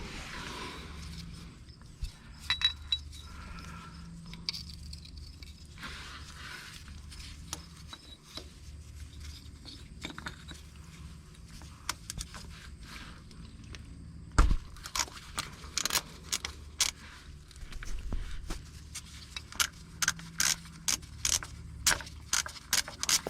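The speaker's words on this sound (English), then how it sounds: "we can use a 7/8 deep well socket to remove the sensor" A 7/8 deep well socket on a ratchet works loose a transmission fluid pressure sensor, giving quiet rubbing at first, then a run of sharp, evenly spaced clicks in the second half.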